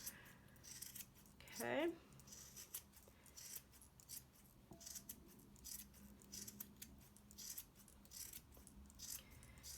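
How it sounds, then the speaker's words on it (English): Scissors trimming around the perimeter of a yarn pom-pom from an emoji pom-pom kit, quiet repeated snips and rustles close by, with a brief spoken word early on. "now I'm going to just trim it all the way around like this"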